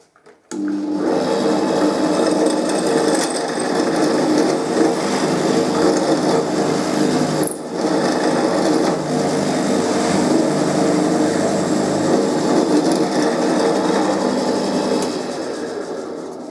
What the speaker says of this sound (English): whilst I drill a hole here